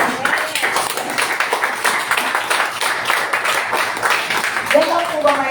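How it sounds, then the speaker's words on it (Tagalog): A church congregation claps at a Sunday service, a continuous round of applause filling the room, with a voice speaking over it near the end. "Alam niyo po ang palakpak para sa Panginoon."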